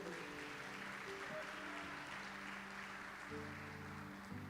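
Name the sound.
congregation applauding in church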